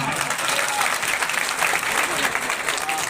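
Audience applause at a Ram birth celebration gathering in Biaora, a dense, continuous burst of many hands clapping, loud and close throughout.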